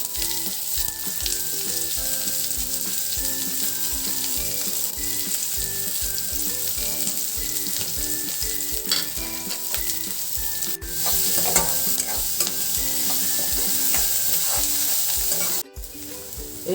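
Chopped onion, green chili and curry leaves fry together in oil with a loud, continuous sizzle, while a utensil scrapes and stirs rhythmically in the pan, and one sharp knock comes near the end.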